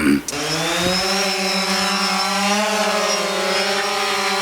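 A camera drone fitted with a 4K camera and a screen flies close by, its steady propeller whine holding level with a few small pitch shifts throughout, preceded by a brief knock at the start.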